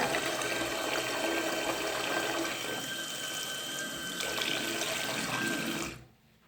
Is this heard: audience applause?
no